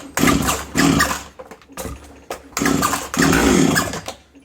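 Small two-stroke garden power tool, chainsaw-type, sputtering in short bursts on a first start attempt with choke and throttle lock engaged, close and loud, coughing and dying between pulls.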